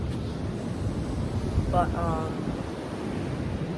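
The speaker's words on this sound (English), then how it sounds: "Those waves are huge, if you can see, and they're breaking about probably 100 yards offshore." Large ocean waves breaking about 100 yards offshore at the Outer Banks, North Carolina, a continuous low roaring wash with wind buffeting the microphone and a brief spoken word partway through.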